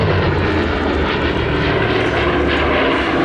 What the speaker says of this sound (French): C'est un avion qui est destiné à être embarqué sur porte-avions.